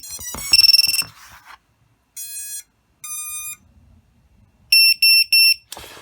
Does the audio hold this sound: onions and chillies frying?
no